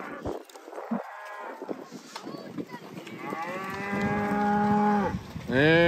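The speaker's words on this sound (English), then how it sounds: "There's the back end of the cattle." Cattle moo repeatedly during a spring ranch roundup, with long, drawn-out calls close by over faint background noise.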